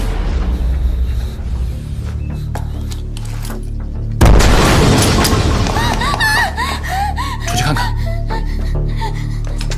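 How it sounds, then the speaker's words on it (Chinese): A sudden loud explosive burst from detonating explosives in a Chinese television drama scene, striking after a stretch of tense low background and followed by a sustained rumbling roar with gasps and cries. "那边有炸药爆炸"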